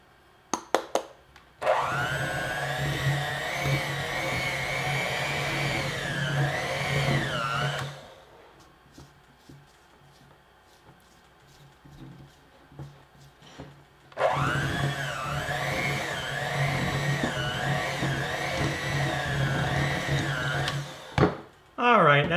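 An electric hand mixer churns thick peanut butter cookie dough, whining loudly with a wavering pitch in two long runs separated by a quieter pause with clatter.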